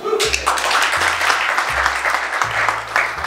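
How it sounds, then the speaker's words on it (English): A crowd applauds steadily, a dense wash of clapping that continues throughout with a low hum underneath. "So that's worth an applause."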